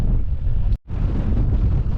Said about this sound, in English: I'm not sure if you can hear me because it's very, very windy.